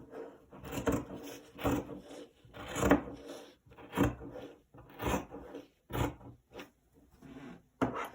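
Scissors snip through lace around a pattern piece in a run of separate rasping cuts, roughly one a second, close and fairly loud with short pauses between strokes.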